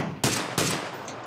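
Two loud, sharp gunshots about a third of a second apart in PlayerUnknown's Battlegrounds, a headshot kill, each a broadband crack with a short tail, followed by quieter game ambience.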